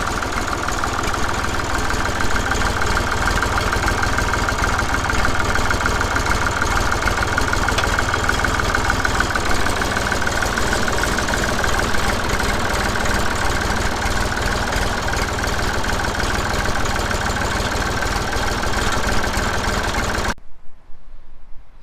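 A vintage Massey Ferguson 35X tractor idles steadily on its newly fitted exhaust, a close, loud, continuous mid-low engine drone with a faint knock, running alone for about twenty seconds before cutting to silence.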